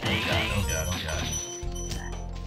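Frog croaking in the Spyro the Dragon video game, repeated low croaks mixed with game music and effects, with a voice talking over it.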